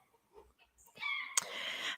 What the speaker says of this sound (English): That damn rooster over there's.